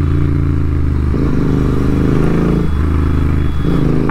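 A Royal Enfield GT650 motorcycle riding through traffic, its steady engine drone running loud and close throughout with a few brief dips and clattering shifts.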